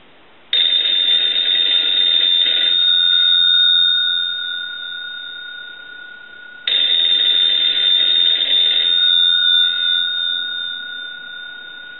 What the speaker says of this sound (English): We can ring the bells with the analyzer,